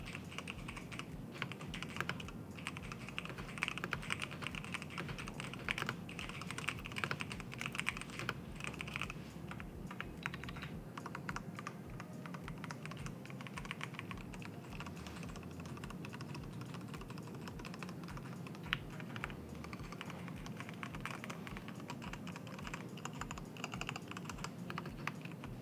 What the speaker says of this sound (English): So those are the Cherry MX 2A red switches.